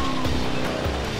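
A car plunging into water in Forza Motorsport 6 during a bowling showcase event, a loud, brief splashing surge and rushing wash over engine noise.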